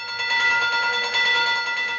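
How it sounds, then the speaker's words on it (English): An electric train bell ringing at a railway station in the 1945 film Brief Encounter, a steady metallic trill sustained for about two seconds with no voices. "Train bell."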